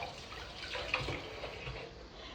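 Running water and splashing as a pair of hands is rinsed under a tap after being rubbed with papaya, a steady close wash with a brief louder splash near the middle and no talking.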